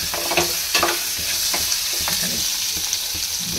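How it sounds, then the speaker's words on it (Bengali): Goat mutton with a little fat frying in a new frying pan, a steady close sizzle with occasional spatters and stirring scrapes throughout, no talking. "এখানে এখন নতুন ফ্রাই প্যানে বসিয়েছি হচ্ছে পাঁঠার মাংস।"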